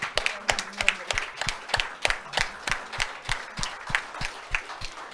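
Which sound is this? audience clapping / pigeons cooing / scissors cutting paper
audience clapping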